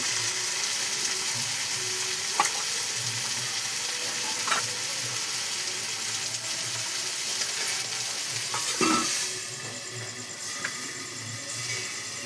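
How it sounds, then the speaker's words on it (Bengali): Onions fry in a pan with a dense, steady sizzle while a spatula scrapes through them now and then, close and continuous, the hiss easing slightly toward the end with no voices. "তারপর আমি আবার একটু নাড়াচাড়া করে নেবো পেঁয়াজগুলো"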